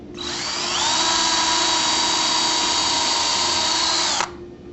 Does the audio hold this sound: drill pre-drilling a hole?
yes